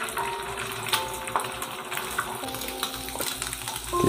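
Egg frying with onions in a pan while green beans stir-fry: a loud, steady sizzle with scraping stirs and utensil knocks throughout, close up and with no talk.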